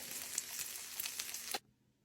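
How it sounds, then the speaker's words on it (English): Beef tacos frying in oil in a skillet, a crisp sizzle with crackling pops that cuts off abruptly after about a second and a half. "Just fold them over and let them start frying."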